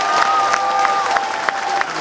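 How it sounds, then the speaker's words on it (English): Audience applause at the close of a 2023 St Vincent's School graduation ceremony, a steady wash of clapping from a large crowd with a sustained tone and some voices mixed underneath. "Can we give them a big round of applause?"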